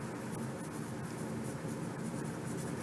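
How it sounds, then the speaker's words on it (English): A pencil writes on a paper worksheet, giving a close, continuous scratchy rubbing with small strokes and taps. It is fairly quiet, and no one talks. "Please write your name"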